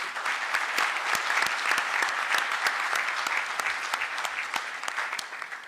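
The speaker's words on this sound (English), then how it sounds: "With applause, we welcome His Excellency." An audience at the Kenya-Poland economic dialogue in Nairobi applauds to welcome the president, a steady wash of many hands clapping with a few sharper nearby claps standing out, continuous and moderately loud.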